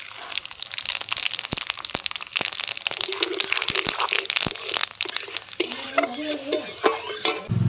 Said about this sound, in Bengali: আমি নিয়ে নিয়েছি এই গোটা মশলাগুলো ফোড়ন দেব।